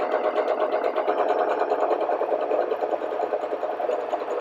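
A domestic sewing machine runs steadily at an even, moderate pace, sewing a narrow hem to join fabric scraps. The needle chatters rhythmically and continuously with no pauses, and no one speaks.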